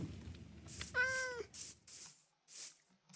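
A Minecraft cat gives one clear, close meow, followed by short bursts of hissy noise and a faint low rumble; no one speaks.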